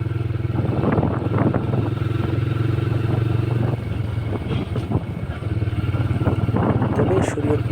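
A motorcycle ridden by a woman biker in Naria, Shariatpur rumbles close by with a steady, droning engine note that holds throughout, while people talk over it.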